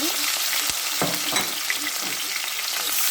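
Onion, garlic, green chilli and curry leaves sauté in hot oil in a pan, giving a loud steady sizzle throughout with occasional scrapes and knocks of a stirring spoon, no voices.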